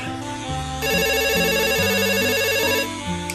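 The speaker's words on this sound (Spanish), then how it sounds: "que suena el teléfono" Telephone ringing with a loud electronic melodic ringtone, a steady repeating tone pattern held for a few seconds at close range.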